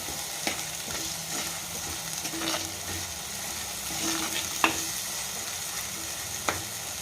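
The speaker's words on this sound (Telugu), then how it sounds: "అల్లం వెల్లిపాయ పేస్ట్ కూడా వేగిందండి వేగిన తర్వాత ఒక్క టమాటా వేసుకుందాం" Ginger garlic paste and tomato frying in a pan, a steady low sizzle with a few sharp clinks of a spoon stirring against the pan, alone and close.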